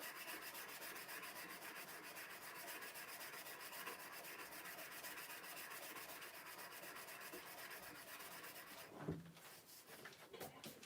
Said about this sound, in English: sand by hand along the length of the blank